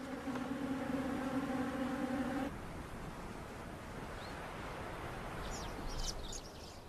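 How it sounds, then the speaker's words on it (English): Bees gathered around an unexpected source of moisture in the wild, their steady buzzing droning loudly at first before fading into a softer, diffuse background hum with some faint high chirps. "sometimes they attract thirsty bees drawn to this unlikely source of moisture"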